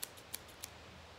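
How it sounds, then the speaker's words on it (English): Scissors click sharply three times at an even pace, quiet and close in an otherwise hushed room. "I have a great collection of different scissors"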